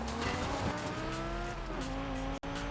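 A car engine howls at full throttle in the racing game Forza Horizon 5, a loud sustained tone that rises in pitch, then drops with a gear change and climbs again, briefly cut out near the end.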